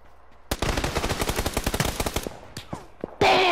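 Rapid automatic gunfire in PUBG, a close, loud burst of evenly spaced shots that slows into a few scattered single shots, followed by a sudden harsh noisy blast at the end.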